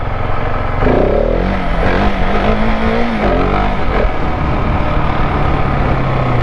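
A KTM 690 SMC R single-cylinder motorcycle engine revs hard during a power wheelie, a rising, sweeping engine note near the listener that climbs then settles into a steadier drone.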